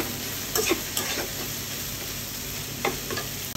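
Chopped egg frying and being stirred in a pan for street-food-style noodles, a steady loud sizzle with a few scraping stirs, close and with no talking.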